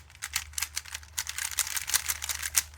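Speedcubes, a ferro-core Rubik's cube and a Weilong V10, are turned quickly, giving rapid dry plastic clicks and rattles close up in an irregular rhythm, with no talking.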